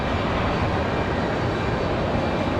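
A Republic Airways airliner departs Raleigh-Durham airport bound for LaGuardia: a steady, loud, broadband engine roar holds evenly throughout, with no talk over it.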